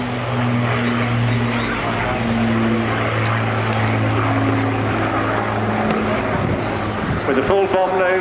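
An Avro Lancaster bomber flying at an air show, its piston engines giving a steady, droning hum with strong low tones, under a commentator's voice that continues throughout.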